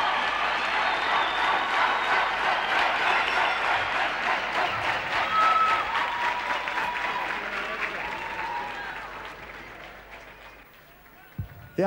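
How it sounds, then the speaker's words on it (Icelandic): Loud, sustained applause from a large audience, dense clapping that fades somewhat toward the end before a brief thump. "það á vel við að klappa duglega"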